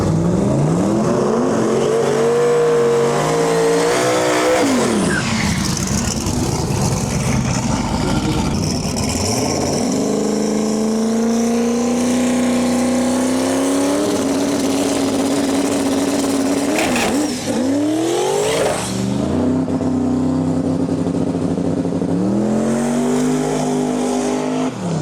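Drag racing cars launching down the track with heavy wheel spin and traction trouble in both lanes, a loud sustained roar of engines over screeching tires, pitch climbing and wavering as they fight for grip.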